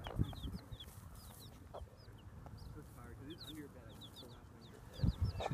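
A broody hen clucks softly and repeatedly over food amid high peeping chicks outdoors, with some rustling and a few louder thumps near the end.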